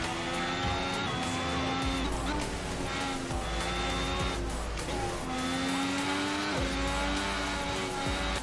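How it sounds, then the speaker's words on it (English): Formula 1 car in a racing video game on a Qatar circuit, a loud continuous engine whine sweeping up and down through gear changes, with rising pitch on acceleration and drops on shifts, heard alone. "Yep, running wide. That was my chance there to try and catch Perez."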